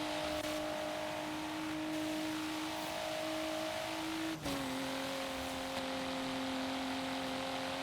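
Steady, moderately loud hum of a car engine at a constant pitch in Forza Horizon 3, dipping briefly and settling slightly higher partway through, with no talking.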